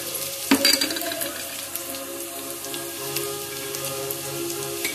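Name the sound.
roasting fenugreek, coriander seeds and cumin in a pan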